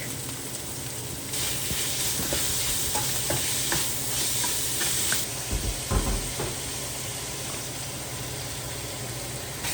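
Pork stir-fried with onions, green pepper and garlic in a home kitchen, a loud continuous sizzle broken by repeated scraping and clattering stirs of the spatula.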